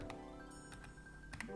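Someone types on a keyboard, leaving a few faint, sparse key clicks spread across a quiet room with a low steady hum in the background.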